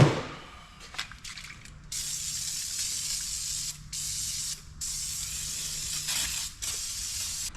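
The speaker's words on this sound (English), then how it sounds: "we're gonna go and get this thing sprayed down, let her soak" A Cummins diesel engine from an impound is sprayed down: bursts of loud hissing spray start and stop in several long blasts with brief pauses, close by, after a few faint clicks and no talking.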